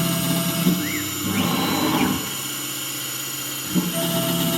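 A Langmuir Systems MR-1 mill cuts 4140PH steel with a loud, close motor whine that shifts in pitch as the spindle and cut load change, over a constant mechanical hum.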